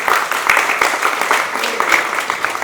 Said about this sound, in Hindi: तो एक बार हम पहले जोरदार तालियां अपने सारे अधिकारियों को दी।